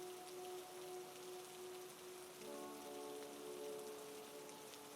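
Steady, even rainfall in a cozy winter setting, a soft continuous hiss of drops with a faint low tonal hum in the background, no voices.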